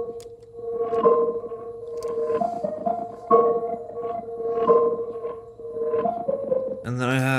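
Synth chord layer from a melody one-shot in Logic Quick Sampler, set to multiple polyphony, playing repeated sustained chords with swelling attacks, followed by a sudden bright, warbling rising sound at the end.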